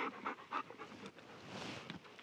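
Dogs, three littermate brothers, pant in quick rhythmic bursts close by, breathy huffs fading into softer background breathing and movement.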